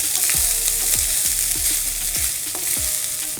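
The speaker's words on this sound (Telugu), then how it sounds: "రుచికి సరిపడంత ఉప్పు ఓకే వేసుకొని వీటన్నింటినీ ఒకసారి బాగా కలిపేసుకుందాం" Salt and spices are stirred in a hot pan for curry leaf rice, a loud steady sizzle of frying with a spoon scraping the pan in regular strokes about twice a second, close up and with no talking.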